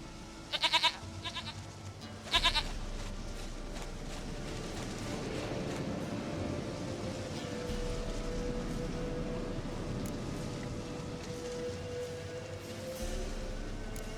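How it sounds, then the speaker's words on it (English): Goat bleats from The Witcher 3, two short loud cries near the start over a steady low game ambience and a soft drone that continues to the end. "Goat of mine! Dearest,"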